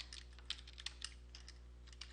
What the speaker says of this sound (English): find my plus sign on my keyboard